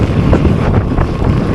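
Strong wind rushes over a flooded rice field in Bulacan, a loud, continuous buffeting roar dominated by low rumble, with no talk.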